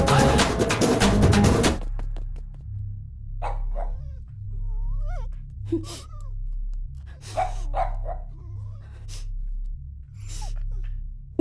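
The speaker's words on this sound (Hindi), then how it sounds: "अब भौंक रहा है।" A burst of loud noise, then a dog's sporadic barks and whimpery yelps over a low steady hum.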